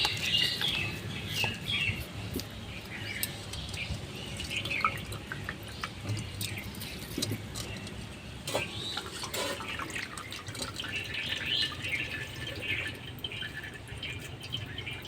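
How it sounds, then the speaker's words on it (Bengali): Washed rice for basanti pulao draining in a kitchen sieve, water dripping and trickling steadily through the mesh at close range for the whole stretch, with no talking. "চালগুলোকে আমি এই ছাঁকনিতে করে এইভাবে একটু ছেঁকে নেব"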